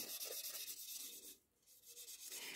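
Light sanding of Milliput epoxy filler on a porcelain chip repair, a steady soft rubbing scratch with rhythmic strokes that pauses briefly midway, close and fairly quiet with no talking.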